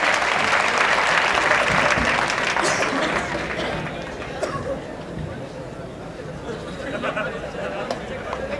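Loud audience applause at a Kavi Sammelan poetry gathering at BHU, thick and sustained at first, then thinning into scattered claps and crowd murmur as it fades to a lower level.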